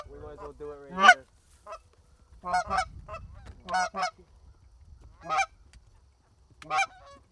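Canada geese honk repeatedly during early goose hunting season, a series of loud, separate calls spaced over several seconds, some near and some farther off.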